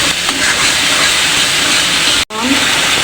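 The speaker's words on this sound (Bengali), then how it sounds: "আমি ভালো করে কষিয়ে নেবো আদা রসুনের কাঁচা গন্ধটা চলে যাওয়া পর্যন্ত" Ginger garlic paste sizzles loudly in a hot pan as it is sautéed, a dense steady hiss that cuts out for an instant near the end before resuming.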